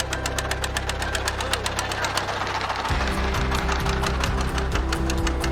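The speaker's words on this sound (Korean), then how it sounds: "경운기 엔진을 단 그야말로 통통배입니다." A small wooden fishing boat off Indonesia, powered by a cultivator engine, chugs with a fast, steady putt-putt knock that shifts to a deeper rhythm partway through, loud and close, with a voice talking over it.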